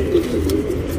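A tournament racing pigeon of the flyer type gives a low, soft cooing, a continuous throaty murmur heard close up with no talk.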